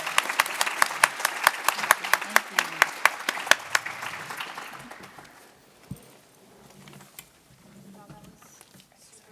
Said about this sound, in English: Round of applause for our wonderful panelists today.